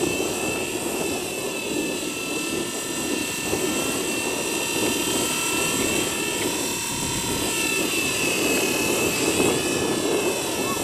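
Small 230 S V2 RC model helicopter flying outdoors in cold, windy weather, its steady high rotor whine and motor buzz continuous and fairly close throughout, with wind noise underneath and no talking.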